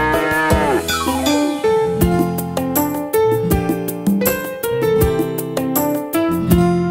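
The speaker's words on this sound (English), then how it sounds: "With a big golden bell, she rings it moo. And she goes moo." A cartoon cow gives a long, sliding moo at the start of a children's farm nursery song, backed by bright, steady music and bell-like hits throughout.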